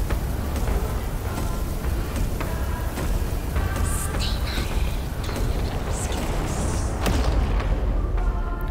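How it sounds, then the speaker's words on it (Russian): Explosions rumble in the game Bramble: The Mountain King, deep booming blasts layered over a continuous noisy game soundscape with scattered sharper impacts. "Какие-то взрывы"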